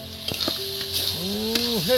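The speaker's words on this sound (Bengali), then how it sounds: "এবার এর মধ্যে যে আলুগুলো ভাজা ছিল বন্ধুরা, এবার ধীরে ধীরে দিয়ে দেবো" Fried potatoes go into a spiced masala for a cauliflower rasa curry, giving a steady, close sizzle with a few stirring knocks and scrapes in the pan.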